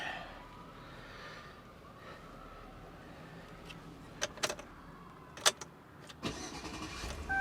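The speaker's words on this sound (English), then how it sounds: "Ooh, that starter sounds great." A Chevrolet Tahoe's starter cranks and the engine catches, a low rumbling run under sharp clicks and a few loud, brief knocks and clunks nearby, with no talking.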